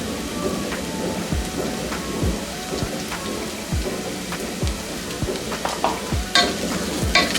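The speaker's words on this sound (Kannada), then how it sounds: "ಇದನ್ನು ಕೂಡ ಹಸಿ ಸ್ಮೆಲ್ ಹೋಗೋ ತನಕ ಇದನ್ನು ಇದೇ ರೀತಿಯೇ ಫ್ರೈ ಮಾಡ್ಕೊಳ್ಳೋಣ" Onions with ginger garlic paste frying for chana masala, a steady hiss and sizzle in a pan with repeated soft scraping strokes of a spoon stirring through the mix, no voices.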